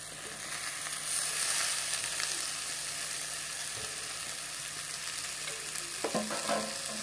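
Chopped tomatoes frying in hot oil for a katla fish curry, a loud continuous sizzle and hiss with occasional stirring scrapes toward the end, close up and without speech.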